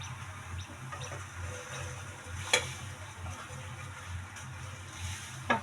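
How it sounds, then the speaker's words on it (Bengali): Crispy snacks shallow-fry in a little oil in a pan, giving a continuous soft sizzle with a low bubbling pulse underneath and a couple of sharper clinks, close and steady with no talk. "এখন এইভাবে করে ভেজে নেবেন। আমি হালকা তেলে ভাজছি।"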